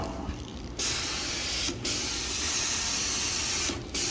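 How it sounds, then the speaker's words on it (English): A carpet cleaning machine rinses a heavily soiled, pet-odor carpet in a basement, giving a steady loud spraying hiss with two brief cutoffs as the trigger is released. "everything is rinsing away very well"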